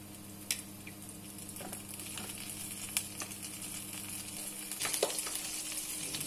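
Homemade breadcrumbs with garlic and herbs fry gently in a pan with a soft, steady sizzle, quiet and close, broken by a few light clicks and stirring scrapes.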